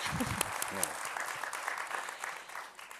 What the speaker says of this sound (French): Oui, on peut l'applaudir.